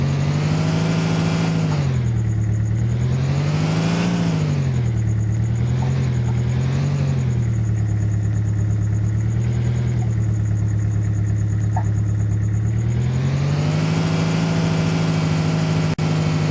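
A small car's engine in Farming Simulator 2015 drones steadily throughout, its pitch rising and falling as it revs up and eases back, loud and close with no talking over it.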